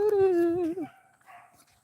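A dog outdoors on a nature walk gives a drawn-out, whining howl-bark that holds steady for most of a second before breaking off, followed by fainter rustling and a distant second yelp.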